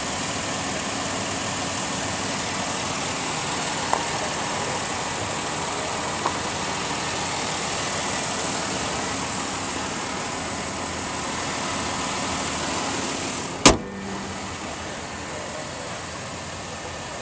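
A 2011 Jeep Grand Cherokee Laredo 4x4 with a 3.6 liter Pentastar V6 idles in a steady, even hum, heard close and alone, broken by a sharp knock near the end.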